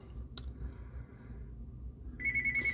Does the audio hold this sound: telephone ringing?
yes